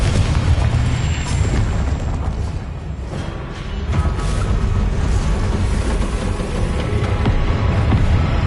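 Confringo blasting spell explosions in a video game, a loud continuous roaring rumble of blasts with brief dips and surges throughout.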